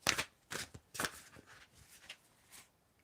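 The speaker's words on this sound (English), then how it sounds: "You can tell me when to stop shuffling." Tarot cards being shuffled in a close, quiet setting give soft riffling bursts, several quick flutters in an uneven rhythm that fade toward the end.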